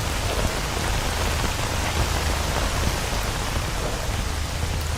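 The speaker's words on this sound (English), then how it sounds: "raindrops on the helmet effect" Steady, dense rain patters on a helmet in S.T.A.L.K.E.R. Anomaly, a continuous close hiss of raindrops with no pauses and no voices.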